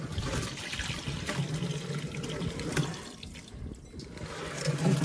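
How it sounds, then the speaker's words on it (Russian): Water running from an outdoor tap on a terrace while flowers are watered, a continuous splashing rush at moderate distance with some breezy background and no speech. "Хоть польется. Кран не закрыла."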